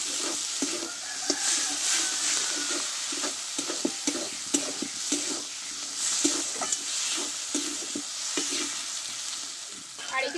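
Spice paste with coriander leaves fries in a pan for a drumstick and egg curry, a continuous close sizzle punctuated by repeated scraping thuds as the mixture is stirred and pressed.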